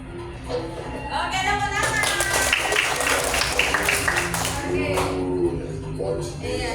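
Pupils in an Indonesian classroom clap together after a teacher's prompt during an English lesson on months, a steady patter of hand claps layered under talking and a voice throughout.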